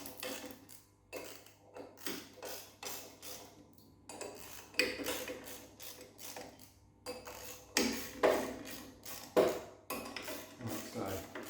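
Metal wrench work on a Volkswagen Beetle clutch, bolts being tightened one after another around the pressure plate: repeated close ratcheting clicks and light metallic clinks in short bursts with brief pauses, no talking.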